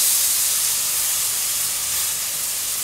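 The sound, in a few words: plant-based Whopper patty sizzling in a pan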